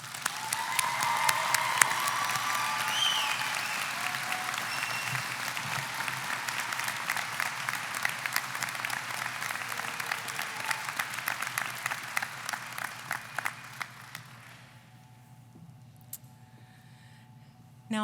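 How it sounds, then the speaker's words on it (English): A commencement audience at a university graduation gives a sustained round of applause for a professor, steady dense clapping from a large hall, moderately distant, fading out near the end with scattered last claps. "I'd love to hear a round of applause for Professor Hanebeck"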